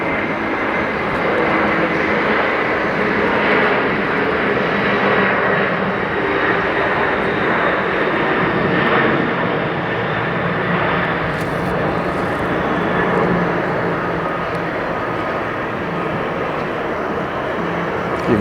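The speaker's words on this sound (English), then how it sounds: "to get the full effect of the 747-400 taking off" A Boeing 747-400 taking off at JFK airport roars loudly and steadily, a broad sustained rumble and whine that holds strong without fading.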